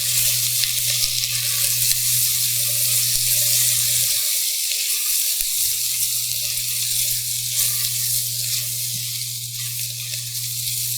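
Onions caramelize in a pan for a ribeye French dip sandwich with a steady, loud, close sizzle that runs throughout, with a brief softening of the low background hum partway through.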